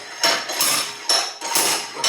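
A slide hammer strikes repeatedly against the front wheel hub of a 2002 Honda Civic during a wheel bearing replacement, sounding as about four sharp, loud metallic impacts in an uneven rhythm, close by.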